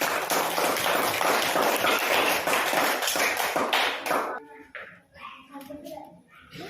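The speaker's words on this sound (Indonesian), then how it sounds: "Tepuk tangannya mana?" Students in a classroom applaud a presenting group for several seconds, a dense, steady patter of many hands that stops abruptly, leaving scattered quieter sounds and a few voices.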